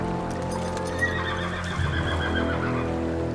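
Horses at a river neigh and whinny, with hooves clopping at the water's edge, heard at moderate distance against a soft, steady ambient backdrop with no talking.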